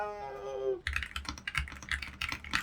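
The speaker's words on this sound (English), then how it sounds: "Let's do some typing really quick and see how it sounds." Rapid, crisp keystrokes on an AULA F87 wireless mechanical keyboard with gasket structure and hot-swappable switches, a steady close-up clatter that starts after a brief tonal sound at the beginning.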